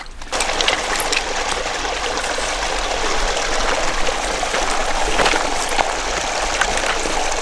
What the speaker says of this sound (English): This here is Corduroy Creek and it confluences with Fish Creek right here.